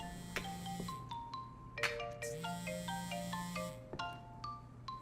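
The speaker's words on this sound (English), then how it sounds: "Phone ringing." Phone ringing in the video game Crime Scene Cleaner: a tonal electronic ringtone plays as repeated chiming notes over a steady low hum, fairly close and clear with no talk.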